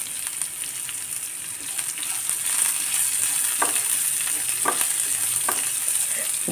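Ginger and curry leaves sauté in a hot pan with a steady close sizzle, broken by a few sharp scraping stirs; no voices.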